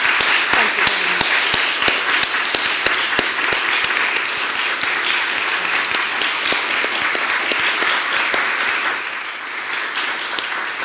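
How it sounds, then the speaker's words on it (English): A large lecture audience applauds continuously, dense clapping from many hands holding steady throughout before easing slightly toward the end. "I would like to give you another round of applause."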